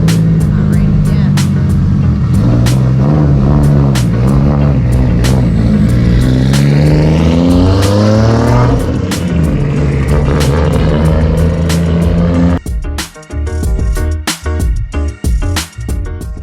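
Toyota Supra MK3 with a stock 1JZ engine pulls hard on a drive, a loud continuous roar rising in pitch through the gears, then dropping to a quieter rumble with clicks and knocks.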